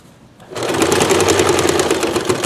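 A sewing machine stitching through a fabric towel, starting abruptly and running as a loud, close, fast mechanical whir with rapid needle ticks.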